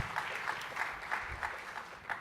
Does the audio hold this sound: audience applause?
yes